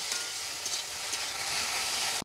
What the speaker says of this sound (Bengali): এখন দিয়ে দিচ্ছি মাছটা, ঢেলে দিলাম, মাছটা দিয়ে দিচ্ছি, এখন ভাজি।